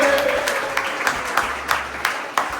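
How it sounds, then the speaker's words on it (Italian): Scattered applause from a small crowd at an outdoor rural gathering celebrating tripe and the Lessinia transhumance, uneven claps with a few sharper hand slaps standing out, fairly close. "E adesso abbiamo un applauso, no?"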